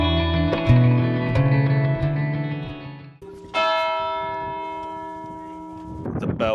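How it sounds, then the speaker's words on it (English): A large church bell tolls the hour slowly, each deep, reverberant strike ringing out and fading before the next, with a faint voice near the end. "bell ringing on the hour."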